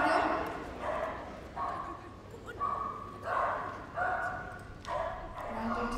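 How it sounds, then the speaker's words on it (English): Welsh Springer Spaniel barking at the Crufts 2016 team agility medium final, with a few short barks and yips over an arena crowd while a commentator talks throughout. "This is Welsh Springer Spaniel."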